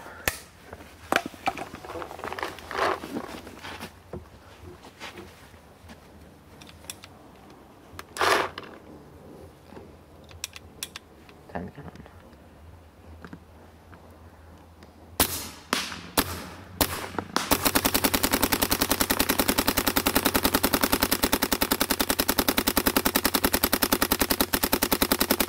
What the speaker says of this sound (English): I'm just going to shoot and see what it looks like.